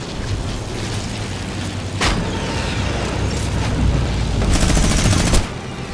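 Gunfire in the video game Fortnite rattles on in dense, loud, continuous bursts, with a few sharper shots standing out.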